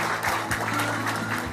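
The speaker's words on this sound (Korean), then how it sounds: "박수 한번 보내주세요" Audience applause fills a formal televised ceremony with a president in attendance, a steady round of clapping carrying on throughout at moderate level.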